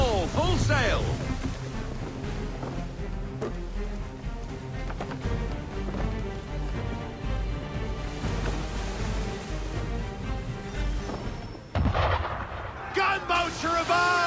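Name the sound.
gunboat cannon fire in Assassin's Creed III video game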